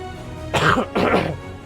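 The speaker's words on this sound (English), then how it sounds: "this cough is going to come back to bite me in the butt a few times tonight" Two quick, harsh coughs in succession, close and loud, with a brief gap between them and quiet around them.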